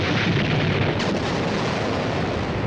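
The atomic bomb detonation from the 1953 film The War of the Worlds roars as a dense, sustained rumbling blast, loud and steady throughout with a brief surge near the start, no talk over it.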